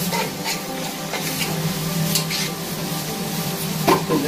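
Onions sautéing in a pan for a mutton masala, a steady close sizzle with stirring and light scraping of a utensil against the pan throughout, no talk.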